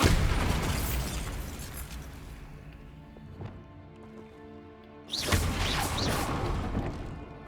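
A Bombarda blasting spell detonates in Hogwarts Legacy, a loud booming explosion that fades into a long rumbling decay, then a second sharp burst of crashing debris and whooshing near the end.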